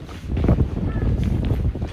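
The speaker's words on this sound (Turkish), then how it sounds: "Şuna bak nasıl rüzgar var." Gusty wind buffets the microphone with a continuous low rumbling roar, close and fairly loud, without pause.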